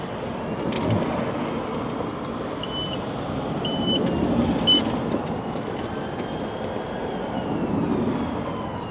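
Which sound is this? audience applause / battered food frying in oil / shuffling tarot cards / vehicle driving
vehicle driving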